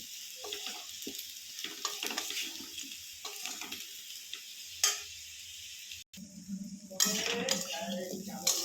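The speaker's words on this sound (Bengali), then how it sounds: "ভালো করে কষিয়ে নেব।" Masala paste for a taro curry sizzles and fries in a pan with scraping stirs and clinks of utensils, broken by brief louder bursts and a short gap before a steadier sizzle resumes.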